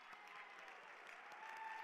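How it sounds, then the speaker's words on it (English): Gala audience applauding at a charity event program, a steady wash of clapping held at an even level for about two seconds, fairly faint and without talk. "So please, everybody, round of applause for Pat and the team."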